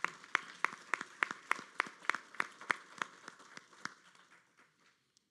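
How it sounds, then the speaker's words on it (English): Audience applause at an event honoring FAMU College of Law, a steady patter of separate claps that tapers off and fades near the end. "can we give a round of applause for FAMU College of Law?"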